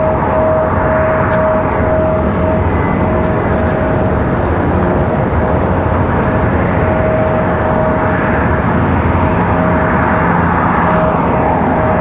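Republic Airways flight 3589 from Washington Dulles passes at Raleigh-Durham International Airport, a loud, steady jet roar with a sustained whine that holds throughout.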